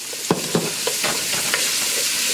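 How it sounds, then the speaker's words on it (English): Onions sizzle and hiss steadily in a hot pan, with a few sharp stirring scrapes and clacks punctuating the frying noise. "Now you hear the sizzle, that means my pot was already going."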